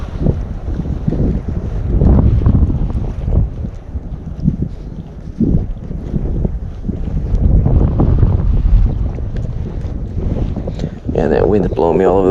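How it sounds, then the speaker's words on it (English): Strong wind blows outdoors over open water during kayak fishing, buffeting the microphone in loud, rumbling gusts that rise and fall throughout, with faint splashing underneath. "that wind is blowing me all over the place"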